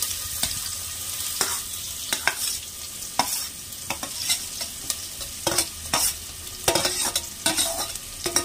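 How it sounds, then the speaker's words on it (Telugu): Onions and green chilies fry in a little oil in a kadai for an Andhra-style country chicken curry, a steady close sizzle broken by repeated sharp scrapes and clacks of a stirring spoon against the pan. "బాండి పెట్టి అందులో కొద్దిగా ఆయిల్ వేసుకోవాలి. అందులో ఉల్లిపాయలు, పచ్చిమిరపకాయలు వేసుకోవాలి."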